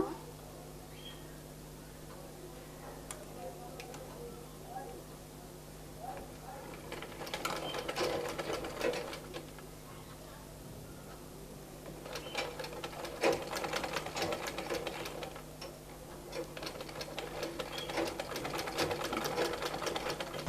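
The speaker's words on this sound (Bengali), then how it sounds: "দুটি কাপড় একসাথে রেখে এই যে এভাবে করে আমি সেলাইটা করব" A sewing machine runs in bursts while two layers of fabric are stitched along the thigh seam of a one-year-old boy's half pant, with intermittent whirring runs over a steady low hum and quiet pauses between.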